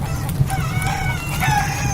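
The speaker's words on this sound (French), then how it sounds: "file un coup de pied au cul du coq qui se mit à chanter" A rooster crows once, a short, harmonic call lasting under two seconds, close and loud.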